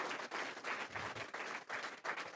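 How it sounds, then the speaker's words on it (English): An audience gives a presenter a round of applause at a pitch event, a short burst of faint, distant clapping in uneven waves. "I'd like to just give another round of applause to Morgan for stepping up to"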